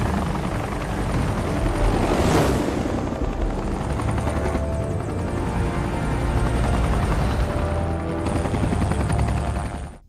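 A helicopter roars continuously and loudly with a dense rotor rumble and whine, holding steady for about ten seconds in an action film scene.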